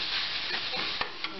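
Ground meat sautés in a pan with a soft, continuous sizzle, broken by a couple of quick stirring scrapes, heard close and fairly quiet.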